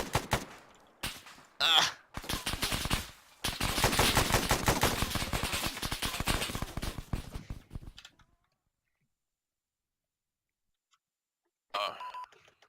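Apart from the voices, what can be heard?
gunfire in the video game Arma 3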